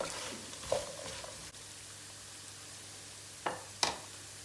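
Onions added to meat cooking in a pot for pilaf, a low steady sizzle with a few brief utensil clinks and stirs, close and fairly quiet, no speech.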